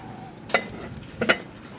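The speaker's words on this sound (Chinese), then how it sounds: "抽稀搅到这种拉丝不断就好了。" Millet flour batter being stirred in a bowl, two short clinking scrapes of a utensil against the bowl over a quiet background.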